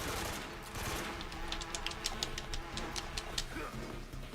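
Burst of AK assault rifle fire in Metal Gear Solid 3, a long run of sharp rapid shots through a full magazine over a dense game soundscape with faint talk underneath.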